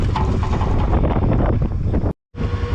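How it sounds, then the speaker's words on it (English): Breezy outdoor wind buffets the microphone in loud, continuous rumbling gusts, cut off by a brief moment of silence before resuming. "It's a little bit breezy today."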